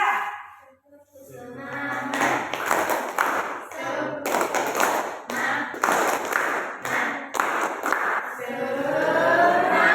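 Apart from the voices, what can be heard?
class giving an encouraging round of applause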